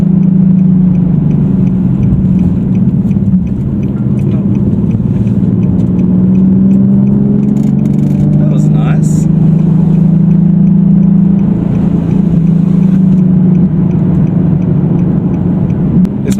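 A Nissan 370Z drives on the road and brakes, giving a loud steady low engine drone with road noise throughout and a slight shift in pitch as it slows, no talking.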